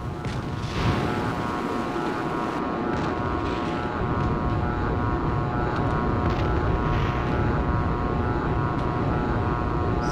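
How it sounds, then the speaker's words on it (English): Jet engines roar in the Strike Fighters 2 flight sim as aircraft with afterburners close in from behind, a steady, loud, broadband rush that holds for about ten seconds with no voices. "I hear somebody coming in with afterburners behind me."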